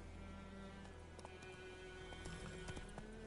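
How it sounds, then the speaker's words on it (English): Roach, the horse in the video game The Witcher 3, gallops with faint, quick clip-clop hoofbeats over a soft background of game ambience. "Geralt can always call on his horse, Roach, to help him in his travels."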